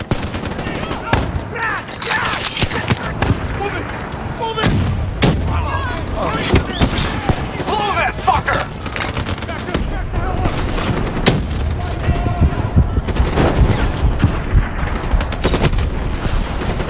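Explosions and gunfire rage during a Call of Duty: Black Ops 3 mission as tunnel supports are detonated. Dense, continuous booms and rapid shots fill the whole stretch, loud and chaotic throughout.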